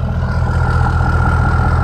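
A Ford F250 Platinum pickup fitted with a 2.5-inch leveling kit idles close by, its engine and exhaust making a steady, loud low rumble with no talk.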